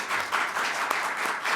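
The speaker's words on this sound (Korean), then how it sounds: "큰 박수로 맞이해 주시기 바랍니다." Audience applause welcoming a National Assembly member at a policy forum on local education finance grants, a short steady burst of many hands clapping in a hall, even and moderately loud.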